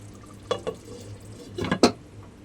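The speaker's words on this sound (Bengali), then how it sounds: "আবার একটু ঢাকা দিয়ে দিই" A lid is set over a pot of steamed hilsa in mustard sauce, with a few sharp metallic clinks and clatters, a pair early and a louder cluster near the end, over quiet background.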